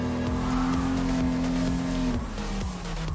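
A classic Jaguar E-Type races in Gran Turismo Sport, its engine holding a loud, steady high-revving drone that drops in pitch after a gear change near the end, with faint tire noise underneath.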